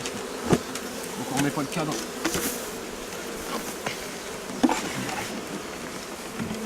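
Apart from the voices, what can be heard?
honeybees buzzing at an open beehive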